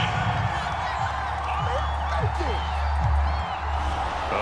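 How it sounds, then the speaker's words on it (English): A stadium crowd in a football video game boos and roars at a penalty call. The noise is broad and continuous and sits under a commentator's voice. "this crowd does not like that call"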